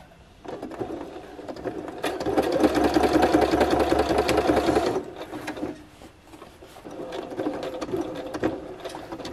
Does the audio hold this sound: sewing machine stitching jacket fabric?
yes